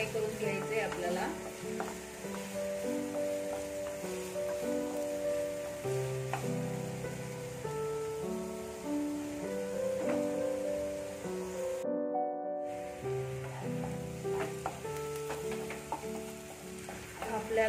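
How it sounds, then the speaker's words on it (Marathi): Minced chicken kheema fries in a pan, a continuous close sizzle with stirring scrapes throughout, briefly cutting out for a moment partway through before resuming. "थोडं लालसर होईपर्यंत आपण फ्राय करून घेऊया"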